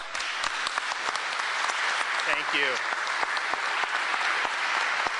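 An audience applauds a governor at a Florida news conference, with steady clapping of moderate loudness throughout and someone briefly speaking over it.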